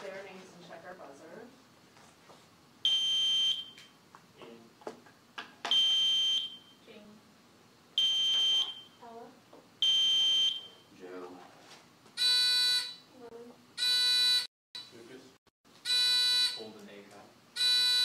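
Quiz bowl buzzers ring during a pre-match test at an academic league meet, with about eight loud, harsh electronic buzzes in short bursts. Players speak between the buzzes.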